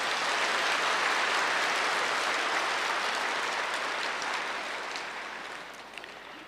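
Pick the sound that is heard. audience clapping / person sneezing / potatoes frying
audience clapping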